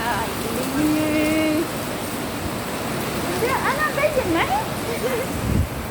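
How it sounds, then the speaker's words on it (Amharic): Steady rain pours down with a dense, even hiss on surfaces, while indistinct voices and whistle-like calls rise briefly over it. "ከዳው ዝናብ መጣ"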